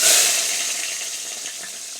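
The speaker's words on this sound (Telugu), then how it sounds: "నూనెలో ఉల్లిగడ్డలు వేసినాం." Onions hiss and sizzle steadily in hot oil, a close, continuous frying sound that starts loud and eases slightly, with no voices over it.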